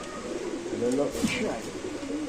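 Pigeons coo at a busy pigeon market, soft throaty calls rising out of a crowded bustle, with people talking nearby throughout.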